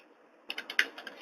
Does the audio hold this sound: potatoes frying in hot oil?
no